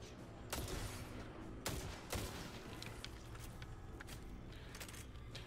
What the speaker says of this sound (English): Say hello to the Halo hand cannon.